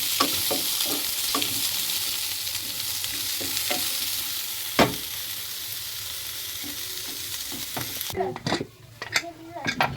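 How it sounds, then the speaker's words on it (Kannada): Onions frying in a pan for chutney, cooked until reddish: a steady close sizzle runs throughout, broken by the regular scrape and knock of stirring, with a few louder clatters near the end. "ಸ್ವಲ್ಪ ಕೆಂಪಗಾಗೋ ಥರ ಹುರ್ಕೋಬೇಕು ನಾವು ಉಳ್ಳಾಗಡ್ಡೆ"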